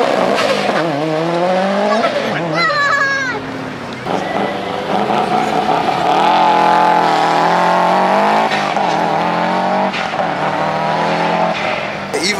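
A Mitsubishi Evo race car driven hard, its engine roaring loudly while the tires squeal and whine in rising and falling pitches, continuous and close.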